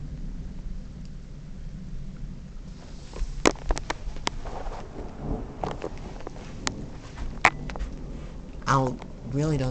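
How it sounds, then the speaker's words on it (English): Thunderstorm outside with steady rain hiss and low rumbles of thunder, plus a few sharp cracks, while someone talks over it. "it's still raining outside. I'm not sure if you can see it, but there's lightning and everything."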